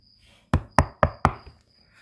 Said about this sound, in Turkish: kapı çaldı galiba